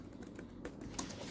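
Fingers tap on a thin, low-profile keyboard case for a Samsung Galaxy Tab S6 Lite, producing soft, quiet, irregular clicks at close range with no talking.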